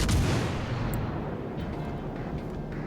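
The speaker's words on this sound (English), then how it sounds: "bullets are coming, so we're going to turn away" A heavy naval gun blast in World of Warships Legends: a loud boom at the start that fades into a long rumbling decay, with faint clicks later.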